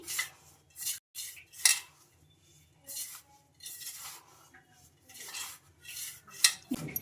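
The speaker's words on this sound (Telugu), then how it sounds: "ఇంకా పెరుగు వేసుకున్న తర్వాత స్పూన్ తోటి మొత్తం ఇలా కలిపేసుకుందాం" A spoon stirs a yogurt mixture in a bowl in a home kitchen, making repeated scraping and clinking strokes in uneven bursts, close and fairly quiet, with short gaps between them.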